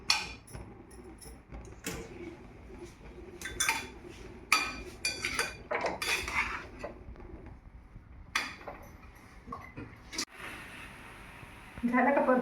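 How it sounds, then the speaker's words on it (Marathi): Grated carrot for gajar halwa being sautéed over a high flame: scattered clinks and scrapes of a utensil against the pan with a low sizzle beneath, while people talk. "थोडा गॅस फुल कर आता आणि मस्तपैकी परतून घ्यायचं याला"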